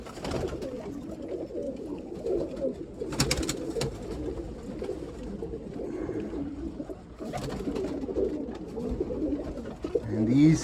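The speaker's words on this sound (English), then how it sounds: "And these here are just amazing birds." Cumulet pigeons coo in a loft, low soft repeated coos layered close and continuous, with wing flutters and light rustling breaking through at moments.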